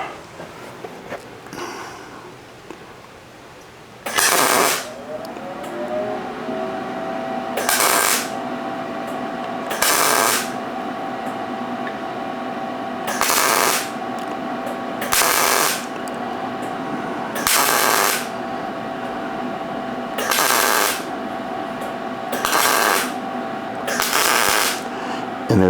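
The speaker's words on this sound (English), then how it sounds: "what I'll be doing now is just stitching these welds in, going down the line" A welder stitching short welds along the steel base of a blocks project, about eight loud crackling bursts of a few seconds each, evenly spaced, with a steady electrical hum running between them.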